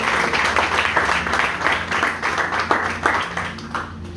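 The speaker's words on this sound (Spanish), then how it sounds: "Dale un aplauso al Señor." A church congregation applauding, a steady mid-level wash of many hands clapping that fills the whole stretch, with a low hum beneath.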